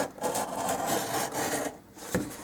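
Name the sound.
craft knife trimming wallpaper along a dollhouse wall edge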